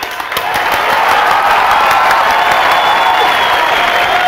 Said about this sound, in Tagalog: Aba, maraming palakpak ah.